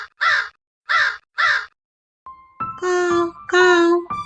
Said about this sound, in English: Caw, caw. I'm crow.